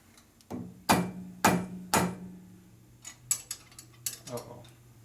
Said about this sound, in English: There's a hammer again.